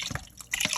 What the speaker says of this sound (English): And next, I'm gonna pour in my lemon juice.